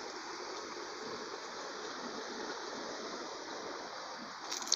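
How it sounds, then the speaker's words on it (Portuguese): A countryside stream of water rushes in a steady, even wash, soft and continuous with no breaks and no voices. "Olha essa água que passa aqui"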